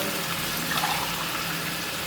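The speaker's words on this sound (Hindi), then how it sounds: "पानी डाल देंगे।" A steady rushing splash of water being poured into a cooking pot of soaked rice for black chickpea pulao, continuous and close, with no talking.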